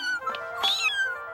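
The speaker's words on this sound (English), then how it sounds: "High above Paris, there it sat, a tiny, helpless little cat." A small, helpless kitten perched high above Paris gives a thin, high meow, drawn out and wavering, fairly close and clear over a soft background hum.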